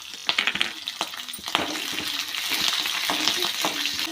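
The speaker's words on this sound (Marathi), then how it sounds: "मिरची पहा छानपैकी अशी तळली गेली आहे" Green chillies frying in oil with peanuts give off a close, busy sizzle with sharp crackles and spoon scrapes early on, then settle into a denser, steady frying hiss.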